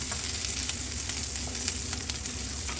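Chicken tikka frying in a pan over a low flame gives a steady, close sizzle with soft crackles throughout, and no voices.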